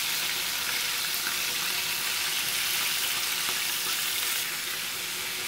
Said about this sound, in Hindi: अगर मैं ये फ्राई कर रही हूँ